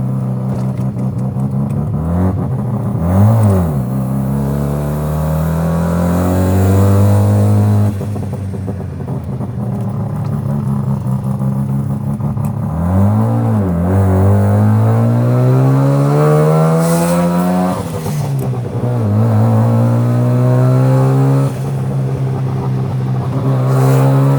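A Mazda RX-7 rotary engine revs hard while driving, loud and close throughout, with repeated climbing pitch sweeps as it accelerates through gears, briefly dropping between shifts.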